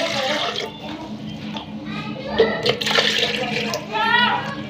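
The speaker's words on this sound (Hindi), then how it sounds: "2 गिलास हम इसमें पानी डालेंगे" Water splashing and gurgling as it is poured from glasses into a container for mint lemonade, in bursts under a voice speaking over it.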